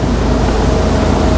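A 2008 Nimbus 402 Nova motor boat running at 1600 revs on ocean swell, a loud, dense, steady roar of engine and rushing water heard close up with no talk.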